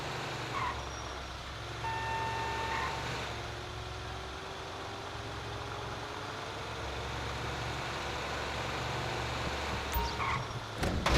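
A heavy machinery vehicle in GTA 5 gives off steady reversing beeps over a low engine rumble, moderately distant and fairly quiet, with no talk.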